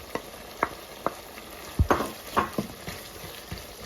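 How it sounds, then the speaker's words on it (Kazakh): Meat sizzles and crackles in a hot pan while it is stirred. Scraping clicks and small pops rise over a steady fry hiss, and no one speaks. "Етіміз әдемі қуырылып жатыр."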